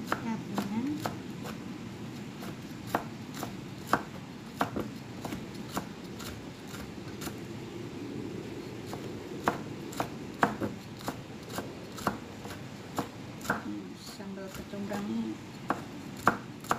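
Torch ginger (kecombrang) chopped with a knife on a board for Balinese sambal matah, with steady, fairly close cuts over a long stretch and occasional sharper knocks.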